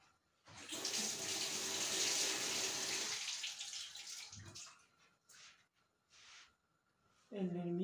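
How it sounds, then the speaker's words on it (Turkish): In a home kitchen, a tap runs hard as hands are washed under the water. The loud gush lasts a few seconds, then drops to softer splashing and rubbing before stopping, and a voice speaks briefly at the end. "Ellerimi bir yıkayayım."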